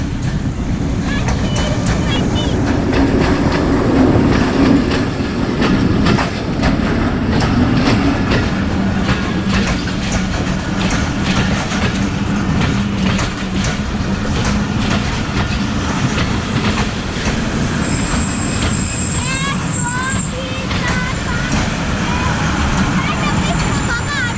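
Rawalpindi Passenger train rolling past a station in Pakistan, a loud continuous rumble with rattling wagons and clickety-clack that holds steady for the whole stretch, with faint high squeals near the end and people talking over it.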